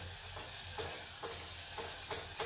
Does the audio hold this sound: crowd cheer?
no